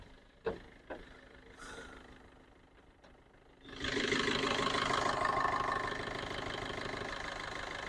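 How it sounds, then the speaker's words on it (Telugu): A 2019 Maruti Breezza ZI automatic car with 66,505 km on it idles after a few faint clicks. From about the midpoint a loud, steady engine drone sets in up close and continues to the end. "ఇంజన్ బీటింగ్ చూడండి, చాలా సైలెంట్గా ఉంది."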